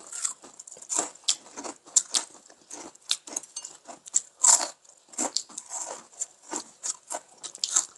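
Fried Korean aralia shoot tempura is eaten up close, giving a steady series of crisp crunching bites and chewing sounds at a quick, uneven rhythm, with little else audible.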